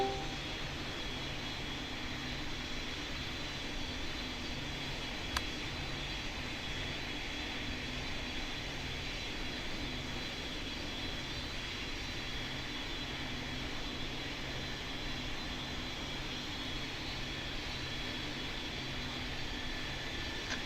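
Airliner engines in the video game Pilot Training Flight Simulator hold a steady, smooth jet roar from start to end, with one brief click partway through and no talking.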